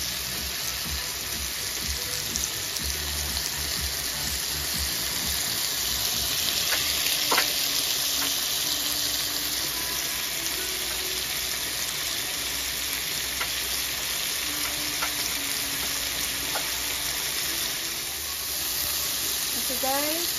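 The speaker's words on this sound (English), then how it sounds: "I'm gonna saute the shrimp first and then add everything else" Shrimp sauté in avocado oil in a pot, giving a steady, close sizzling hiss with faint stirring clatter that continues evenly throughout.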